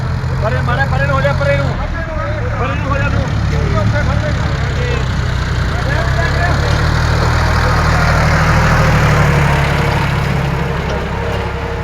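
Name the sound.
convoy of tractor engines idling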